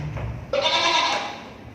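A goat bleats once, close and clear, a wavering nasal cry that follows a low rumble of background noise.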